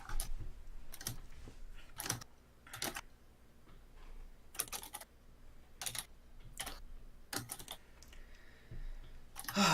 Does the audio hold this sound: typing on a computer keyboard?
yes